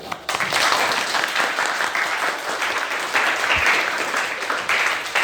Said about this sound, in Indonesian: Kita beri aplaus untuk semuanya.